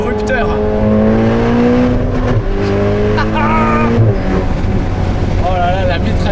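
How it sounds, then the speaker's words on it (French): Ferrari Portofino engine revving hard inside the cabin, its pitch climbing in sweeps with abrupt drops at the shifts, loud throughout with a voice speaking over it. "Écoutez le rupteur."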